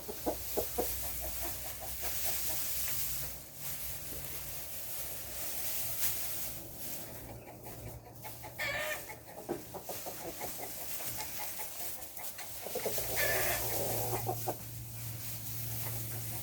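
Hens cluck and murmur steadily inside a chicken coop, with occasional louder squawks over a continuous low hum of background noise.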